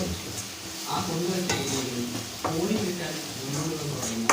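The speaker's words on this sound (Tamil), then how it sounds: "இதை நல்லா வதக்கிக்கலாம்" Crab gravy sautés in a pan with a soft sizzle and repeated scraping and clinking of a spoon being stirred, while a voice talks over the cooking.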